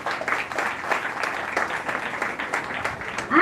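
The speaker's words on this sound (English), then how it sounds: "Give them a round of applause." A crowd applauding at a school graduation ceremony: a continuous wash of many hands clapping, fairly loud and steady for a few seconds, with no talking.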